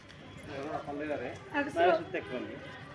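Donkey hooves clop in an uneven walking rhythm at a tourist spot in Chitradurga, close and moderately loud, with people talking nearby.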